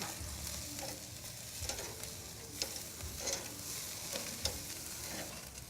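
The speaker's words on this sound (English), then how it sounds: "Now once you flip these, you still want to cook the steaks on the same amount of time on each side." Steaks sizzling as they cook on a covered grill at a bistro kitchen, a steady close crackling hiss with occasional sharper pops and clinks, heard alone without talk.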